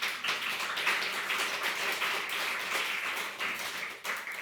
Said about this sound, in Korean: 또 박수 쳐야 안 되겠나?